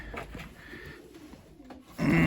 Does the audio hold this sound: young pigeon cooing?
yes